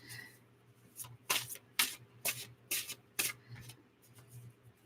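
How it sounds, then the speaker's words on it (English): Art of Life tarot cards being shuffled by hand, a series of crisp riffling bursts with soft rubbing between them, close and fairly quiet. "I'm shuffling the Art of Life tarot, which we do every week."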